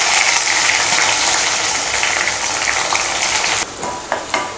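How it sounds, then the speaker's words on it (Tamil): Finely chopped small shallots fry in hot oil with cinnamon, cloves and curry leaves for chicken kurma, producing a loud, bright crackling sizzle that suddenly drops quieter near the end, with a few stirring clinks. "வெங்காயத்தை நல்லா பொன்னிறமாக வறுத்துக்கலாம்."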